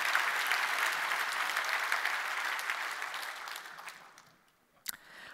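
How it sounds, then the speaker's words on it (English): Steady conference audience applause for a speaker at a tech event, a full dense patter of many hands that fades out after about four seconds, followed by a single sharp clap or tap. "Can we just give Dan one more quick round of applause?"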